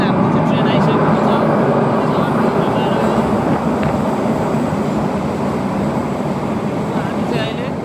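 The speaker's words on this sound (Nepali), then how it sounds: "फाइनली हाम्रो चाहिँ ट्रेन आइसकेको छ." A train pulls into a station in Tokyo, a steady broad rumble and rolling roar that eases slightly as it slows, with background voices in the station.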